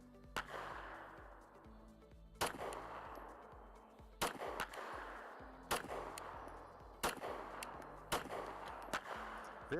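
Canik TP9SFx pistol fired with a Sprinco recoil spring and light loads, giving six sharp, loud shots spaced about a second or more apart, each ringing briefly before the next.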